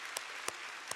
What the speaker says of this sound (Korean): 우리 새벽에 우리 어린이들 위해서 한번 박수를 치겠습니다